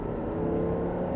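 An Audi R8 V10 on a Las Vegas track pulls under hard throttle, its engine holding a steady, strong tonal drone throughout the short burst.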